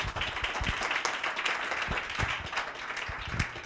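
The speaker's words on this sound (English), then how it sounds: "let's give the panelists a round of applause" An audience at an AR and VR panel discussion applauds the panelists, with steady dense clapping and a few sharper individual claps standing out nearby throughout.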